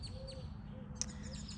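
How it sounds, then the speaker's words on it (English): Birds chirp faintly in a misty, cloudy garden at early morning: a few thin, high tweets spaced apart over a steady low outdoor hum. "The birds are just chirping."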